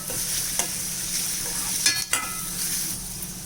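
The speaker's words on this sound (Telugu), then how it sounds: "ఆనియన్స్ వేగుతున్నాయి కదా, ఇందులోనే జీలకర్ర వేసేసుకున్నాం" Onions and cumin seeds fry steadily in hot oil for a Telugu fenugreek-leaf and tomato curry, with a constant close sizzle, a few light stirring scrapes and a couple of brief sharper pops near the middle.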